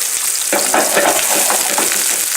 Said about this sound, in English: High flame and grease splattering all over the place.